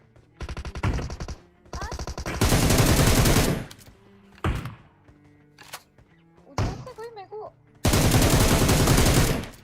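Gunfire in the BGMI battle royale game, with rapid bursts of automatic shots and separate single loud cracks, close and sharp, separated by quieter gaps.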